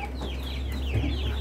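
A Rhode Island Red rooster gives a few short, close clucks over a steady low hum on a farm.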